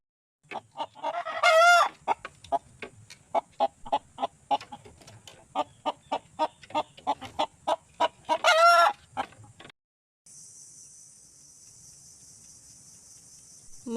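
Chickens cluck in a rapid, rhythmic series of short calls, punctuated by two loud rooster crows, with a steady insect buzz in the background.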